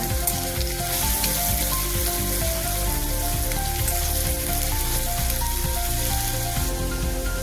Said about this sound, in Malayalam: വെളിച്ചെണ്ണയിൽ ഇഞ്ചി വറുത്ത് കോരാം.